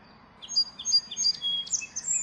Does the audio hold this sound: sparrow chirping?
yes